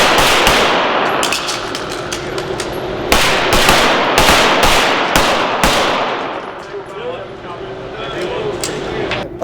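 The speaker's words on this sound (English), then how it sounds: "engage 1 target with 2 rounds, reload, and then hit targets 2 and 3 with 2 more rounds each" Pistol shots at an indoor USPSA shooting match, a string of loud sharp reports in quick pairs with a pause for a reload, echoing in the enclosed range, with voices in the background.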